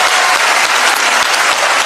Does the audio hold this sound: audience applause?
yes